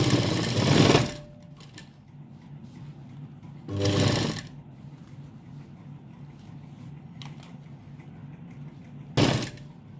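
Sewing machine stitching a blouse, heard in three short, loud motor bursts of about a second each, separated by quieter pauses.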